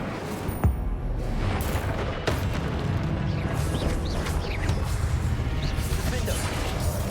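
Combat spells in Hogwarts Legacy crack and burst amid a continuous dense din of magical impacts and crashes, with a couple of sharp hits standing out early, while a voice calls out spell names throughout.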